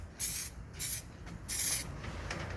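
A paint spray gun applies primer to a smashed bumper on a Land Rover Discovery 2 Td5. It gives three loud, close hissing bursts with short pauses between them, then a softer continuing hiss.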